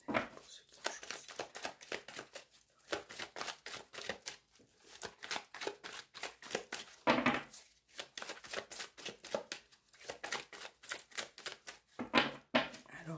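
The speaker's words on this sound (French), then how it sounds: "Alors, on va couper le jeu." A tarot deck being shuffled and cut by hand, quick riffling card flutters in repeated bursts with brief pauses, close and fairly quiet.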